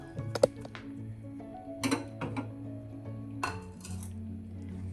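A spoon or spatula clinks and scrapes against a cooking pan while stirring chopped tomatoes and onions for chicken biryani; a few sharp metallic taps stand out over a low steady background hum.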